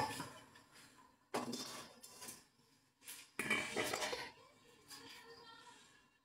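Pots, dishes and cutlery clattering during home cooking: several sharp metallic clanks and scrapes at irregular intervals, close by, with quieter rattling between and faint voices in the background.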